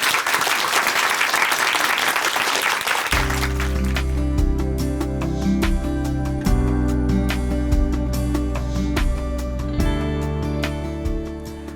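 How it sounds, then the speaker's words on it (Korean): A church congregation at a televised testimony service gives loud, crowded applause to welcome a speaker, then organ-like music swells in and carries on under a few scattered claps. "큰 박수로 모십니다."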